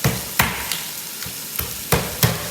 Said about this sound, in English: This is sizzling away, sizzle.